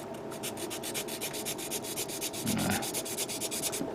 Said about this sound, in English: using my custom little sanding sticks that I made